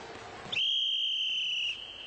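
One sustained, high-pitched whistle blast lasting just over a second signals the start of a youth ball drill of bouncing a ball off a wall, clear against a quiet background.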